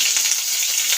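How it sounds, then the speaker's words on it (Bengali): Flat beans fry in hot oil with black cumin, giving a steady, close, dense sizzle that runs evenly throughout with no talking. "হালকা হালকা করে শিমগুলো ভাজবো"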